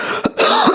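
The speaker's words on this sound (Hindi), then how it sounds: "सॉरी, थोड़ी मेरे को खांसी है" A man gives a loud, close cough with a couple of harsh bursts and some throat rasp, heard on its own between stretches of his talk.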